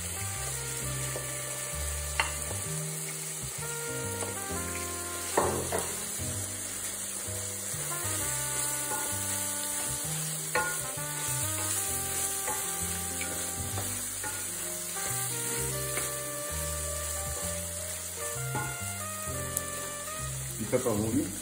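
Onions frying in a pan, a steady bright sizzle running underneath music with a melody and some occasional voice.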